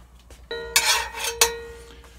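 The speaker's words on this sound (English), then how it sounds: "I'll turn the fire on" A kitchen stove burner sparks alight for a breakfast of pancakes: a short tonal click, then two quick breathy whooshes of gas catching, close and fairly quiet in a still room.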